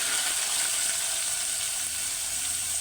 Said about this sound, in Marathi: त्यामध्ये मी तेल टाकलं जिरं मुरी टाकलेलं आहे